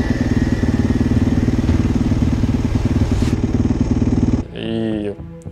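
A motorcycle engine idles steadily with a loud, throbbing rumble that cuts off near the end, leaving a short stretch of other noise.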